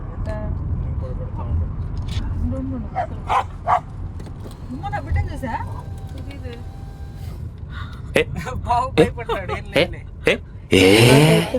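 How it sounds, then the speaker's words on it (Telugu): A dog gives a few short, sharp barks amid outdoor background noise, with people talking nearby and a burst of louder commotion near the end. "ఆ కుక్క అరవక ముందే నేను ఎందుకో క్యాండీ వెనక్కి లాగాను"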